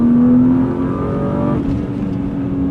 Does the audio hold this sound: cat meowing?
no